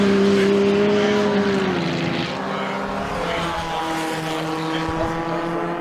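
A Nota Clubman race car at a Winton historic race meeting, its engine note holding a steady high pitch, then dropping and settling as it passes, loud and sustained throughout without speech.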